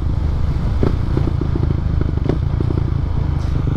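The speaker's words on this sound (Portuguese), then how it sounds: "Vou ter saudades deste barulhinho e desta moto." A motorcycle engine runs steadily and close by, a loud continuous rumble with a throbbing low-end pulse and a few faint clatters, with no talking.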